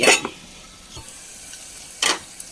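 Prawns with tomato sizzle in a pan, a steady low frying hiss broken by a few sharp scraping stirs and a clink of utensil against metal.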